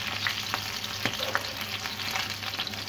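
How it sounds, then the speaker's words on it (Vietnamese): Chicken pieces frying in oil for fish-sauce fried chicken give a steady, close sizzle with scattered sharp pops and light stirring clicks throughout. "chúng ta sẽ tắt bếp để chúng ta chiên bằng nước mắm các bạn nhé"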